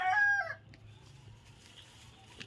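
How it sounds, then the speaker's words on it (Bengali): A village rooster crows once, loud and close, in a brief cut-off call at the start, followed by faint scattered clucks and soft rustling from free-ranging local hens. "মুরগিগুলোকে দেখুন"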